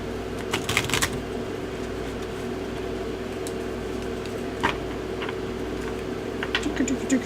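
A deck of cards for The Ninth World, a Numenera skillbuilding card game, being shuffled: a brief riffle-like burst of papery flutters near the start, then sparse soft card clicks and taps close by, with no talking.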